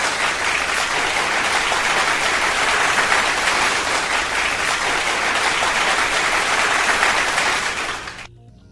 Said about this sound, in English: Yes, polite clapping.